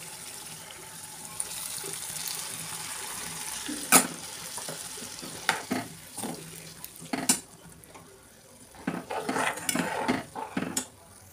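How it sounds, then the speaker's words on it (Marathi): Cooked dal poured into a pan for dal dhokli and stirred, giving soft sizzling, wet sloshing and intermittent scrapes of a spoon against the pan, near and fairly quiet. "आता आपली शिजवलेली डाळ टाकूया."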